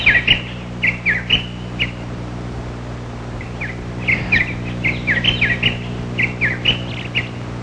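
Formosan (Taiwan) blue magpies calling outdoors in the Shanping area, a run of sharp chirping notes in short bursts and clusters, moderately close, over a steady low background hum.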